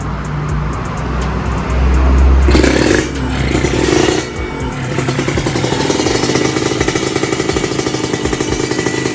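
A Kawasaki Ninja R 150 motorcycle engine runs loud and close, with a rough idle that swells into a revving burst partway through, then settles back into a steady rapid putter.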